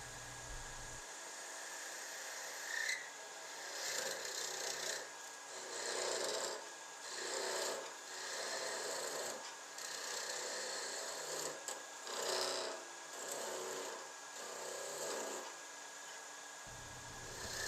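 Skew chisel cutting a bubinga knitting needle spinning on a wood lathe, working toward the headstock; a steady scraping, rasping hiss in repeated pulses of cutting strokes, close and fairly loud, with no talking.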